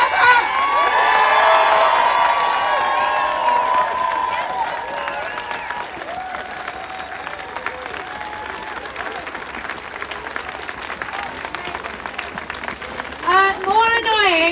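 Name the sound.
crowd of protesters cheering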